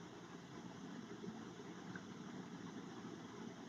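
Cooling fans of an Asus TUF FX504GE laptop whir in a steady, even broadband hum with a low rumble underneath, holding at a constant moderate level with no voices.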